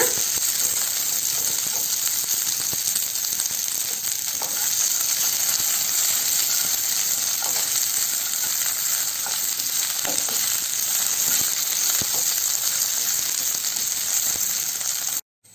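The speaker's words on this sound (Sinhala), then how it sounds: "අපි කපාගත්ත බණ්ඩක්ක ටික මද ගින්දරේ විනාඩි 10ක් විතර බැද ගන්න ඕන" Sliced okra fries in a spoonful of oil in a pan over low heat, giving a steady, close, continuous sizzle with faint crackles throughout and no talking.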